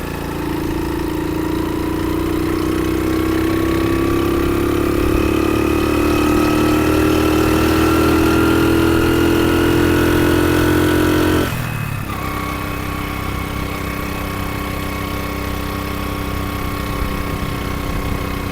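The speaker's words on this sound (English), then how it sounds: "Is it possible to drive the Highland Pass on this little scooter, Pauline?" Small 50 cc scooter engine running loud and close on a ride along the Hai Van Pass near Da Nang, its droning whine slowly climbing in pitch before abruptly dropping to a lower, steadier hum partway through.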